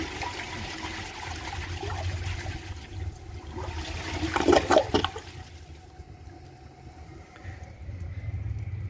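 A 2000 Crane Metro toilet flushing a washcloth, with a rushing surge of water that swells to a loud peak midway, then drains away into a quieter refill trickle, close by with no talking.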